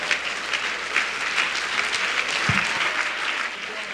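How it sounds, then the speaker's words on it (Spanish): Steady applause from a church congregation, sustained and fairly loud throughout, with a few cheers rising over the clapping. "¿Cuántos se ponen en pie un momentico y le das un aplauso fuerte?"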